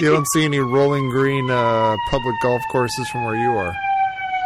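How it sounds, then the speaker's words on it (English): An emergency vehicle siren wails outside in Chicago, a steady rising and falling tone that runs through the whole stretch under loud, continuous conversation. "And now we got the siren."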